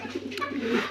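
Domestic pigeons kept in a home loft coo softly and continuously in low, rolling murmurs, close by and fairly steady throughout, with no talk.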